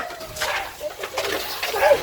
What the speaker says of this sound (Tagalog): Ayan mga kalapatids, yung mga ibon.